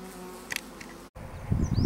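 Honeybees buzz softly at close range around a hive, with a brief break partway through and a louder, rougher hum swelling near the end.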